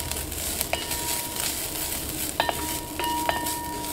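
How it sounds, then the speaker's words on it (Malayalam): Grated coconut and curry leaves fry in hot oil for a Kerala egg curry, giving a steady close sizzle with a few sharp pops and crackles scattered through it. "ഓയിൽ നന്നായിട്ട് ചൂടായിട്ടിട്ട് ഇതിലേക്ക് തേങ്ങ ചേർക്കുക"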